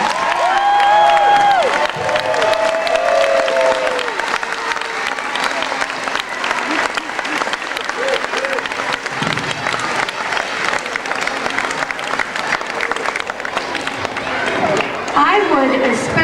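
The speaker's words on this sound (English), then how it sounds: "give our first graders one more round of applause." A school audience applauds loudly for a first grade spring performance, sustained clapping mixed with cheering, children's shouts and chatter that continue throughout.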